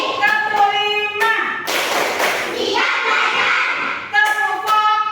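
Young pupils in a primary school religious class beat out a quick clapping pattern, a cluster of sharp slaps in the middle while the group keeps chanting before and after.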